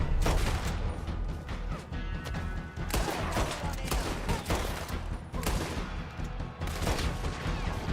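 A dense, continuous gunfight plays out in Red Dead Redemption 2, with overlapping loud shots cracking one after another for the whole stretch and occasional talk underneath.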